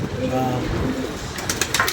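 Pigeons coo inside their loft, a few low rolling calls close by amid steady background noise and shuffling, with faint sharper sounds near the end.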